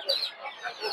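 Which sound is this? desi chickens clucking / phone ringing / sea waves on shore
desi chickens clucking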